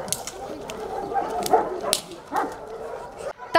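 Police service dogs at a Ministry of Internal Affairs canine centre in Barnaul bark and yip repeatedly during a detention demonstration, fairly close, with brief whimpers and faint voices in the background.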